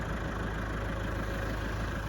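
A tractor engine idling steadily nearby at a beach campervan park, a low continuous rumble with a rhythmic knocking pulse.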